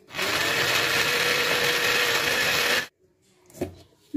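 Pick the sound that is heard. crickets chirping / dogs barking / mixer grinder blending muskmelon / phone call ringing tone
mixer grinder blending muskmelon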